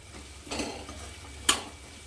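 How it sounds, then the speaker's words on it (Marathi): Masala rice with garam masala being stirred and sautéed in a pan at home: a soft scraping stir near the start and a sharper utensil scrape against the pan a second later, over a faint continuous sizzle. "असं मिक्स करून परतून घ्यायचं आहे"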